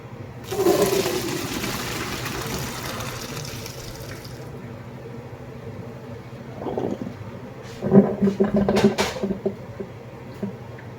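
Water pours out of a pot of cooked gluten-free noodles being drained, a loud rushing splash that fades into a quieter trickle and then comes back in short bursts with clattering, close by and with no talking.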